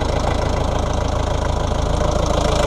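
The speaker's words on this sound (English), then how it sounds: "There's your little 4-cylinder diesel plugging away under there." A small 4-cylinder diesel in a Daihatsu 4WD idles steadily with an even, rapid knocking chug, loud and close under an open bonnet, with no talk.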